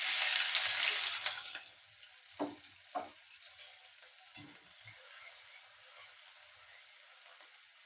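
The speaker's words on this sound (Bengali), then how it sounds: "লঙ্কা আর আদাটাকে একটু 2 মিনিট ভেজে নেব।" Chopped ginger and green chilli sizzle in hot oil in a pan, a bright frying hiss at first that fades into faint crackles, with a few soft stirring knocks.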